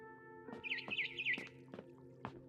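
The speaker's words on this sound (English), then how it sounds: "Then I heard chirping outside my window." Faint, high chirps from a barn swallow in the video game What Remains of Edith Finch, a quick bright run, followed by a few soft clicks against a steady electronic hum.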